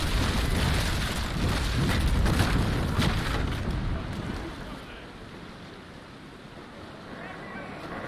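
A sailing warship in the naval combat game Naval Action fires a broadside: a heavy, rolling rumble of cannon booms over wind and sea wash that is loud for about four seconds, then eases back to quieter ocean noise.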